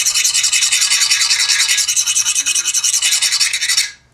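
A 65 HRC hardness test file scrapes back and forth across forged, hardened knife steel in a workshop, giving a loud, rapid, even rasping rhythm of about two strokes per second that stops abruptly near the end.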